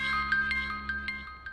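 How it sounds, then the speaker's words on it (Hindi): A phone rings in a household scene, with a repeating electronic ringtone of bright, evenly spaced tonal chimes that stays close and clear and carries no talk. "रेखा जी का फोन"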